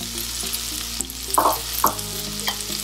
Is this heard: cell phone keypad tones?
no